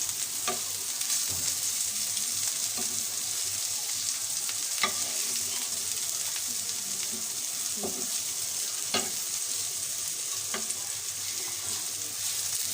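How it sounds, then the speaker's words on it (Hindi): Raw chicken kebabs frying on a slow flame, a steady close hiss of oil with light crackling and occasional sharper pops spread across the whole stretch, heard alone without voices. "इसको स्लो फ्लेम पर आप तलिएगा, क्योंकि ये चिकन हमारा कच्चा है।"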